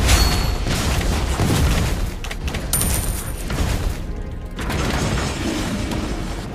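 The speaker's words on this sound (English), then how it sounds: "Your team destroyed the turret!" In a mobile battle game a turret is destroyed: heavy booming blasts and crashing debris roll over a dense mechanical din, loud and layered, with brief high chimes.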